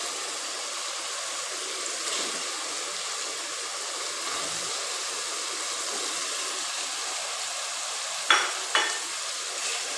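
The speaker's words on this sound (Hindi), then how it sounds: "अब हम इसमें डालेंगे अपना चिकन।" Chicken goes into a pan where meat is already frying. A steady, loud sizzle fills the pan, and two brief sharp clinks sound near the end, with no talking.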